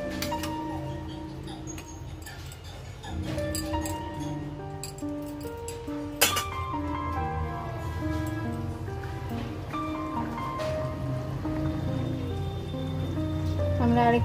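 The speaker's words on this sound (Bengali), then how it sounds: "আমরা আরেকটু চাপা দিয়ে আরেকটু ফুটিয়ে নেবো।" Fish curry with potatoes bubbles and simmers in a covered pot, a soft continuous patter of boiling broken by a few light clinks, with gentle background music throughout.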